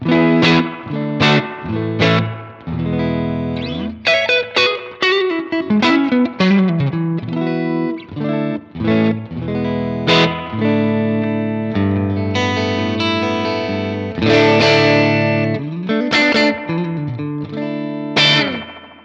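Electric guitar chords and single-note lines through a Danelectro Spring King Junior spring reverb pedal, knobs at noon, ring out with a lush, splashy reverb tail, sustained notes washing into each other, played alone at steady loudness.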